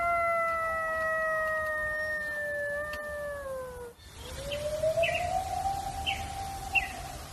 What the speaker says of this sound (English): a coyote would be a very likely source of the sounds that we hear in the Mogollon recording